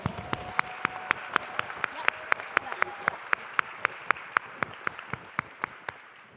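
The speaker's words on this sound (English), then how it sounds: "Once again, a round of applause." Conference general session audience at AMLE 2015 clapping in a steady rhythm, about twenty sharp evenly spaced claps that sound like a group clapping in unison, with a faint tone underneath.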